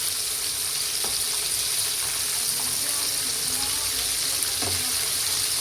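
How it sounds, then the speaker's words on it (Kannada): Prawn kebabs fry in a pan with an even, close hiss that never lets up, broken by a few faint knocks from the pan, and no voices. "ಇವಾಗ ಇದು ಫ್ರೈ ಆಗ್ತಾ ಇದೆ"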